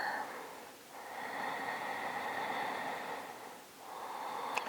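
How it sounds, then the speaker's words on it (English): Ujjayi breathing during a vinyasa yoga session: slow, drawn-out breaths with a hushed, throaty hiss, close and steady, rising and falling through about two long inhale-exhale cycles with brief pauses between, and no talking. "Start to fire up your Ujjayi breath"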